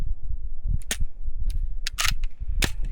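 An H&K VP9 pistol fires a string of sharp shots in quick succession, about five or six cracks spaced unevenly over a few seconds, close and loud against a low rumbling background.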